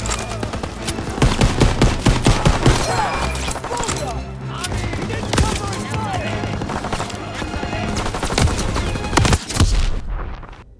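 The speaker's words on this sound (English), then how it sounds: "Suppress that MG!" Machine gun fire from the Call of Duty: WWII video game rattles in loud, dense bursts and fusillades among explosions and battle noise, with shouted voices mixed in throughout.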